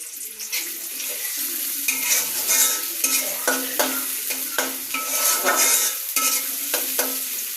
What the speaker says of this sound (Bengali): মাছ রান্না করার জন্য প্রথমে তেলের মধ্যে পেঁয়াজ কাঁচামরিচ দিয়ে দিলাম।